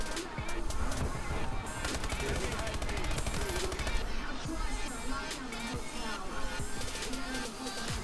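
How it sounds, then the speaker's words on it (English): Rapid gunfire from shotguns in the video game Call of Duty: Advanced Warfare, a dense, continuous barrage of shots and bursts filling the whole stretch, loud and close with no speech. "they're all using shotguns to trap God Angel."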